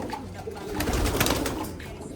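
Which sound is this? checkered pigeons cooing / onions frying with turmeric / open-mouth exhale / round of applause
checkered pigeons cooing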